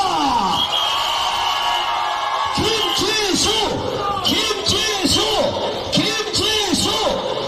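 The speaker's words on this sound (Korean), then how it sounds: "자, 여러분, 다시 한 번 더 함성을 부탁드립니다." A large outdoor political rally crowd in Changwon roars and cheers continuously, with repeated loud chanting surges rising over the sustained din of many voices.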